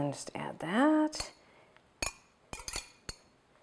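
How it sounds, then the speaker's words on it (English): A whisk clinks sharply a few times against a bowl while whisking ingredients into milk for tapioca pudding, the brief metallic taps spaced apart after a voice speaks at the start. "You can use a fork. I'm just using a whisk here."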